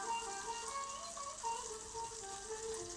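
Onion bhajis frying in hot butter in a pan over a sink: a steady, faint sizzle and crackle running throughout, with no talking.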